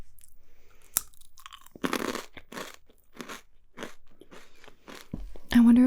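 Crunchy Trader Joe's snack bitten and chewed up close, a series of loud, crisp crunches in bursts with brief pauses, without any talking.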